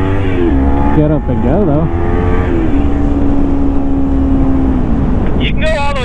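Kawasaki Ninja 300 Special Edition 2015 motorcycle engine revving, sharp climbing rev bursts then a long steady high drone before another rising rev, close and loud under a rider's voice talking.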